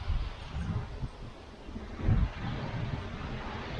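Wind gusting outdoors around an open beehive, a loud rushing microphone rumble that swells and eases over several seconds, with no voices.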